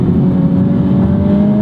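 A 2021 Honda Civic Type R Limited Edition (FK8) with a turbocharged engine and front-wheel drive, heard from inside the cabin as it accelerates, giving a steady, loud engine drone with a slowly rising tone and no talking.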